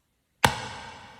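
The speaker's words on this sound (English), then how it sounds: "Most hip-hop impacts sound like this." A single sharp hip-hop impact hit after brief silence, punchy and bright, followed by a short ringing decay.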